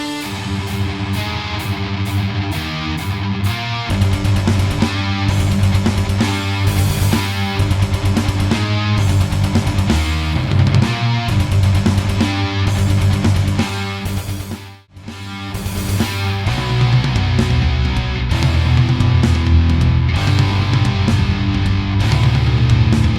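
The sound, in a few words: distorted metal rhythm guitar during solo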